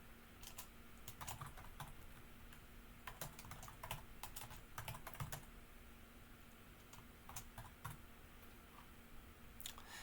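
Quiet typing on a computer keyboard, with irregular bursts of soft key clicks over a low background hum and no talking.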